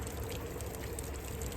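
Water is poured to cut homemade moonshine down to 90 proof, a continuous, steady splashing trickle at moderate volume with no talk over it.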